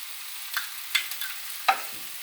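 Onions sizzling in a pan for a mung daal dish, a faint, even hiss broken by a few light clinks and stirring scrapes, with no one talking.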